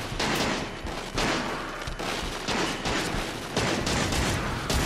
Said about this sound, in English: Just gonna have to shoot them all, shoot them up.